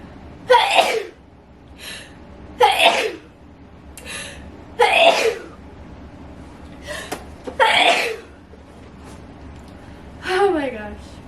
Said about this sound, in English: Oh, I'm about to sneeze.